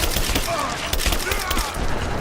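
Dense rapid gunfire in the Tomb Raider video game, a continuous crackling fusillade of shots mixed with battle noise and some shouting voices.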